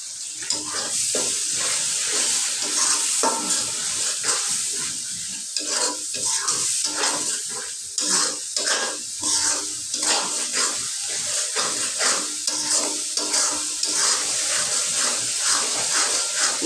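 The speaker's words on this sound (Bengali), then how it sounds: "মশলাটা ভালো মতো কষা নেব।" Spice masala of turmeric, chili powder and green chili paste sizzles hard in hot oil for a pabda fish curry with tomato, with a steady loud frying hiss and busy, rhythmic scrapes of stirring throughout.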